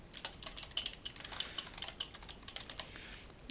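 Rapid, uneven keystrokes on a computer keyboard clatter close up, a steady run of crisp clicks with brief pauses and no voices.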